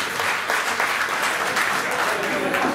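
Applause from a crowd at a fishing club raffle or auction event in Minas, Lavalleja, Uruguay: continuous, dense clapping throughout, with voices mixed in.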